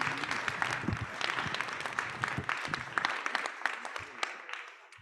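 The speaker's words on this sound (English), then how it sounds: "So one more round of applause." Audience applause at a talk or conference, a moderate round of clapping from a room of people that fades out over several seconds.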